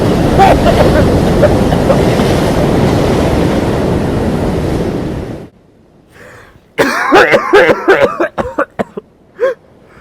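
Roaring surf fills the first half, then after a pause a man coughs and splutters in several harsh bursts, close up.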